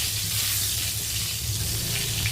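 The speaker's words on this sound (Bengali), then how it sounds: "রাত্রেবেলা রান্না করছি আজকে এখানে পটল ভাজা।" Pointed gourd (potol) frying in a pan for a night-time meal, a loud, dense and unbroken sizzle that fills the whole moment without pause.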